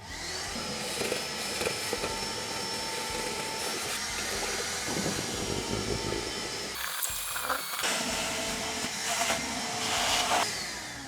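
A wet vacuum cleaner drones steadily and loudly, its whine shifting briefly midway before settling back into a continuous suction roar.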